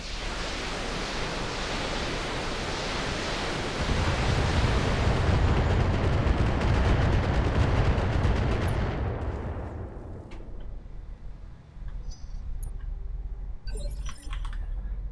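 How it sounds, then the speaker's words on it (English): Missile turrets in the mech combat game Battletech launch a relentless barrage, a dense roaring rush of overlapping rocket fire and impacts that swells heavier midway, then thins into scattered crackles and distant pops. "The bottomless pit of missiles that is missile turrets."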